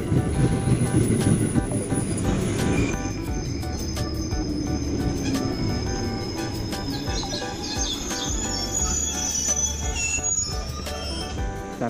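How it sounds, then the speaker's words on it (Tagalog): A train pulling into a station, its wheels squealing in high sustained tones over a rumbling roll, with a person's voice heard briefly among the noise. "At ito na yung train."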